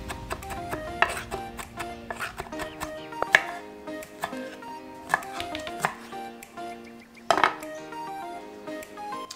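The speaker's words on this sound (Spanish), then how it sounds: "Y esto vamos a picar lo más finito posible." A knife finely chopping ingredients for Peruvian ceviche on a board, steady irregular taps close up with a few sharper clinks, over a quiet kitchen background.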